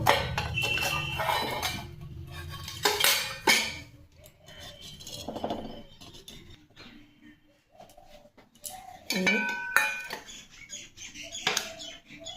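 A covered cooking pot is opened on a home stove, with scattered clinks and scrapes of lid and utensils in uneven bursts separated by quieter gaps, close by and without speech.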